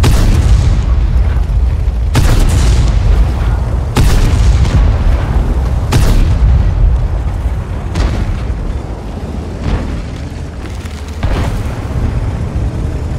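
Heavy explosions and booming gunfire from the World of Tanks video game, a dense loud rumble with repeated sharp blasts every couple of seconds and no talk.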